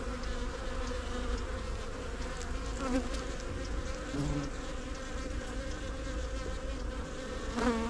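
Honey bees swarm around an open hive during an inspection after swarming, producing a dense, continuous close buzz with individual bees droning past.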